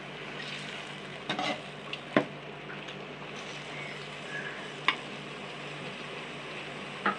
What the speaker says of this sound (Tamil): நல்லா அந்த எண்ணெயிலே வந்து வதங்கி வர மாதிரி இதை கலரி விடணும்.